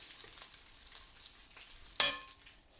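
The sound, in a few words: Kashmiri red chilli powder and dried chillies frying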